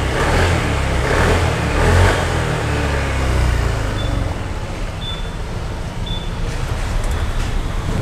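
Honda Vario 160 ABS scooter engine running steadily close by, with a brief rev swell near the start and a dip partway through, otherwise a continuous mid-pitched motor drone with no talk.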